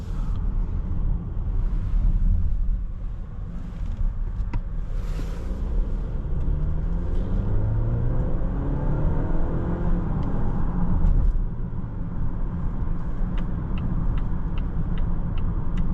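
2026 Volvo XC60 B5 Ultra Black Edition SUV drives along a road, a steady low engine rumble and road noise from inside the cabin swelling gently as it accelerates, with no talk.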